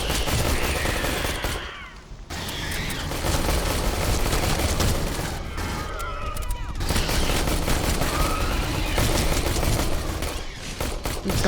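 Rapid gunfire bursts from the game Aliens: Colonial Marines, loud dense volleys with brief pauses between them, mixed with game sounds and voices speaking.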